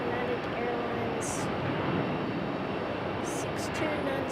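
A United Airlines Embraer E175 jet at Raleigh-Durham International makes a steady, broad engine roar that stays constant throughout, with wind buffeting the microphone and a voice speaking briefly over it.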